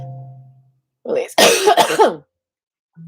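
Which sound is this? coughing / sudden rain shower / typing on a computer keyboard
coughing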